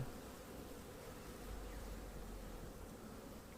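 Honey bees swarm and buzz around an open hive while the nest is arranged for winter, a dense, continuous drone of many wings at close range, faint but steady throughout with no talking.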